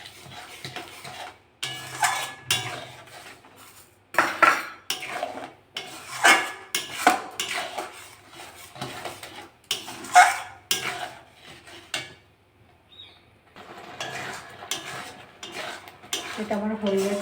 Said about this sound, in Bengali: ভালো করে নাড়বো। আমি স্বাদ মতো চিনি দিয়ে দেবো।